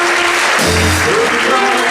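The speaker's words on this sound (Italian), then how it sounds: "Facciamo un bel applauso a Tramontini." Applause for the announced winner at the final evening of the Prunola 2019 contest, a loud, dense wash of clapping throughout with a low hum and faint voices or cheers mixed in.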